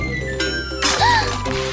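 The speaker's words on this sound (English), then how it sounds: "The cars crashed into a jar of rice." Toy cars crash into a jar of rice in a cartoon kitchen, a bright clattering smash with jingling, rising tonal effects over a steady music bed.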